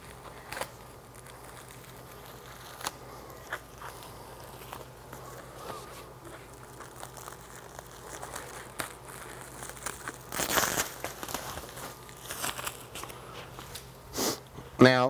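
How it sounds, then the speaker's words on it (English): Paper wrapping is torn and crinkled off a radial flow carbon filter in quiet, scattered rustles and rips, with a louder burst of tearing near the end. "tear the paper off of this as well,"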